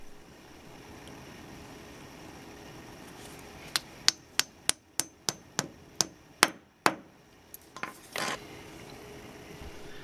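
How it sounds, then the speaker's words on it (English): Blue plastic cement anchors tapped into holes in a floor, about nine sharp, evenly spaced hammer taps, close and distinct over a quiet room, followed by a couple of softer knocks. "Then tap the blue plastic cement anchors into the floor holes."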